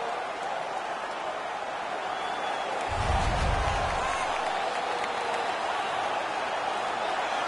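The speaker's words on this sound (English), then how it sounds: "The home crowd is ecstatic. They're making all kinds of noise." Home crowd in the hockey video game NHL 18 roaring after an on-ice fight, a steady wash of arena noise with a louder low-end swell midway that stays sustained to the end.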